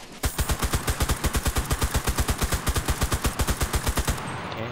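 A rapid automatic weapon fires a long, evenly spaced burst of roughly two dozen loud, close shots in Cuisine Royale, stopping just before the end.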